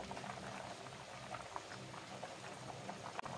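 Chicken corn soup simmering in a covered pot, a steady low bubbling and gentle patter, quiet and continuous, with a small clink near the end.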